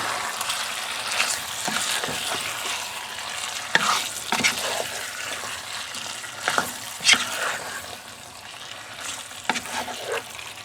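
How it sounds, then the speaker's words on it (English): BBQ beef being stirred in a hot, sizzling pan, steady frying crackle punctuated by repeated scraping stirs of the spoon, close and alone with no talking. "Stir that up."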